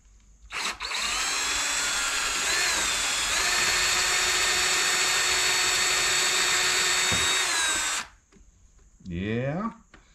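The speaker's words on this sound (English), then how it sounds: "So I'm going to try and drill through this." A power drill with a dull bit bores into a wheel, grinding loudly and steadily for about seven seconds close by, then cuts out, followed by a brief squeaky scraping.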